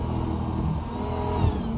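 A Dodge Hellcat engine with no hood revs loudly and steadily close by, its pitch rising and falling with a rough, throaty rumble, with a downshift.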